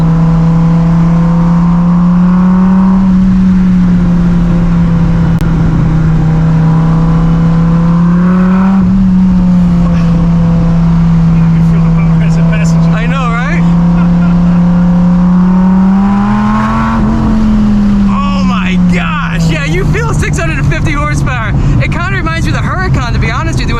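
A 2017 Dodge Viper GTS-R ACR's naturally aspirated V10 drones loudly and steadily from inside the car, its pitch rising and falling with throttle, while people talk over it.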